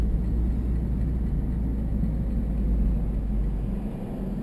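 A 2001 Mazda Protege ES with a five-speed manual gearbox drives along, its steady low engine rumble and road drone filling the cabin at a constant level, with no talk.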